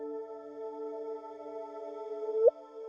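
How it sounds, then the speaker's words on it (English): Gravitational wave chirp from two merging black holes, rendered as sound: a faint steady hum that ends in a brief rising whoop at the moment of merger, alone. "Just a little chirp."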